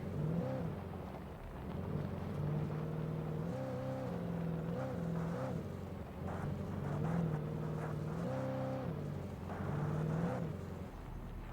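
A car engine in the video game Alan Wake drones steadily with rising and falling revs, loud and continuous with a game-like tonal hum, no voices.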